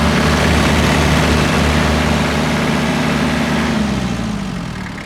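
A Kubota GT3 diesel tractor engine idles loudly and steadily, a deep chugging rumble that dips slightly toward the end.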